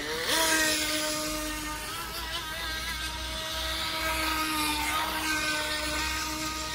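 A Skytech H100 RC speedboat's electric motor whines loudly and steadily close by, its pitch climbing as it accelerates and shifting with the throttle, with no voices.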